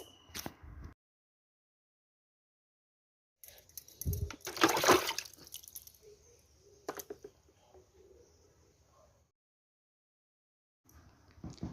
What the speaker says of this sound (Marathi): सर्व खेकडे साफ करून झालेले आहेत पाणी स्वच्छ आलेलं आहे